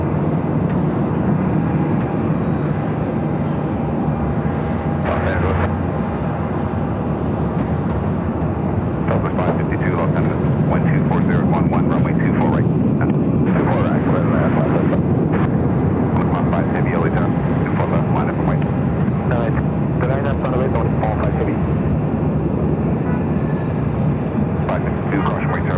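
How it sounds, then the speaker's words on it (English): An ANA Boeing 787-9 Dreamliner jet at LAX sends out a loud, sustained engine roar that holds throughout, with people talking over it and scattered clicks and bumps nearby. "This is the ANA Future Promises livery on the 787-9 Dreamliner, Flight 5 heading back to Tokyo Narita."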